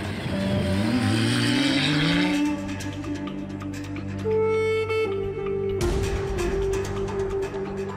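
A Dacia Sandrider rally car on a long run the length of a Dakar Rally special stage, its engine loud and close, revving and climbing through gears with shifts and a brief lull before pulling hard again.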